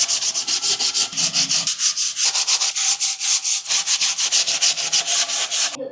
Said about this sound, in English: Now I'm gonna hand sand each of these so that these have a little bit better fit together.